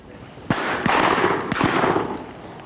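Shotguns fire at a countryside pheasant shoot, two pairs of sharp nearby bangs in quick succession, each followed by a short rolling echo across open ground.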